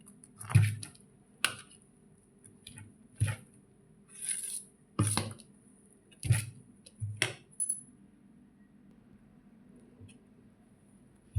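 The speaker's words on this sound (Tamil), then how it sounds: "எல்லாத்தையும் நல்லா கலந்து விட்டாச்சு. மாவு தயாராகிடுச்சு." Millet adai dosa batter is mixed by hand in a bowl, with soft, close squishing and clinking strokes coming in irregular bursts separated by quiet gaps.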